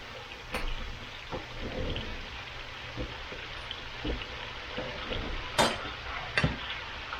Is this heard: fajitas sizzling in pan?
yes